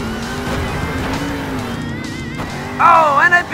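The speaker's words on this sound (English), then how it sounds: "Oh, and a big time crash for El Toro Loco Ice." A monster truck, El Toro Loco Ice, crashes in the Monster Jam Steel Titans video game: a continuous engine roar with tire squeal and skidding, then a louder burst of screeching near the end, under game commentary.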